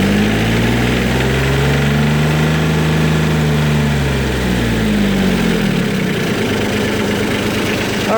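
A diesel-repowered Cub Lo-Boy 154 tractor engine runs loud and close, its steady drone climbing in pitch as it revs up toward 3,600 RPM, then dropping back into a rough, lower idle near the end.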